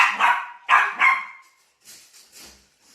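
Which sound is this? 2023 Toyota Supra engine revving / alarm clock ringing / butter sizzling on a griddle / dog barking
dog barking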